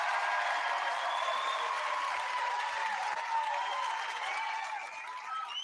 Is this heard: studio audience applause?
yes